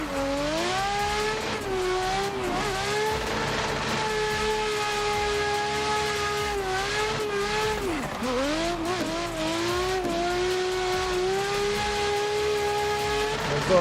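A drift car with a 1,000 horsepower RB28 engine in a racing video game holds a loud, sustained high-revving engine drone with brief pitch dips as it shifts and slides, plus tire squeal underneath.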